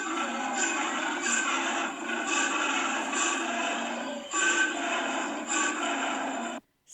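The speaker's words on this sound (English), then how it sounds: "I was not expecting a male koala to sound like this." A male koala at a zoo gives a long, rasping, rumbling bellow in repeated pulsing phrases, loud and close, breaking off once before the call resumes and then ends abruptly.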